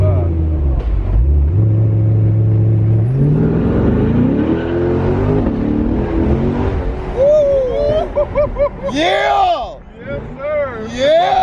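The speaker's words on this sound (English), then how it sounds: "That's how you drive a 4-day old Corvette." A Chevrolet Corvette C8 accelerates hard in a pull, its engine rising through gears with loud climbing revs, while excited voices shout over it near the end.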